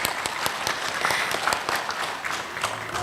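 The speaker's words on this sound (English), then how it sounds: "Can we give her a round of applause, please?" An audience claps and cheers for a store staff member at a company event, a dense, loud wash of applause lasting a few seconds with no talk over it.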